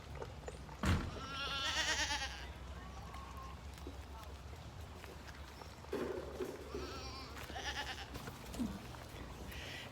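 Goats bleat in bursts at a farm during chores, a loud call early on followed by fainter ones, over steady background noise and a person talking nearby.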